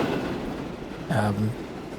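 A train runs along the track in the game Transport Fever 2, a steady rolling rumble with a brief tonal horn-like blare near the middle.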